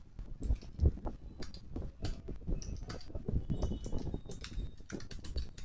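Keys clatter in quick, uneven bursts on a computer keyboard as text is entered into a PowerPoint text box, close and fairly quiet, with no voice.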